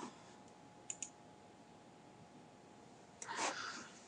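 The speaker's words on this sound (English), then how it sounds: "click OK, click OK, and click OK" A few sharp mouse clicks in quick succession, faint and close, in a quiet room, followed by a brief soft rustle.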